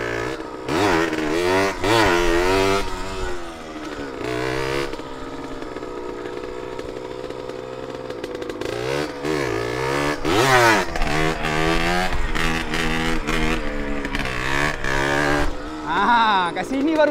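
A motorcycle revving hard during a wheelie, engine pitch climbing and falling through first and second gear with loud, close sweeps and brief lulls between pulls.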